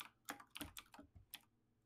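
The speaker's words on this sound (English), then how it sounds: "I gotta love those keyboard noises" Computer keyboard keys clack in a quick, uneven burst of close, crisp taps, several strokes with short pauses between them, heard alone with no voices.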